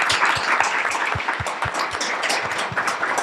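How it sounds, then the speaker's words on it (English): Audience applause at a community event hosted by local ownership, steady dense clapping from a crowd filling the room, with a few louder claps close by. "Please give everyone a applause."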